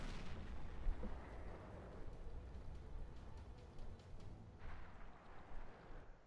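An AT 8 tank cannon firing in a tank video game, with a heavy boom followed by rolling rumble, then a second, fainter shot a few seconds later, all at low overall volume.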